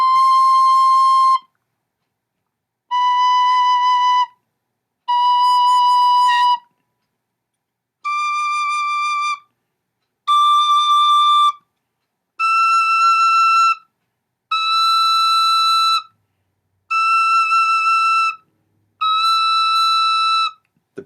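Tin whistles with nickel-plated and bare brass bodies play nine clear sustained notes one after another, each about two seconds with short gaps, the pitch stepping gradually upward, close and loud with no talking.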